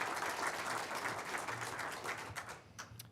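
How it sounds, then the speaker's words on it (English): A college audience at a media announcement applauding donors, a soft, fairly distant patter of many hands clapping for about three seconds, thinning out toward the end. "How about another round of applause for all of our donors as we come through here today?"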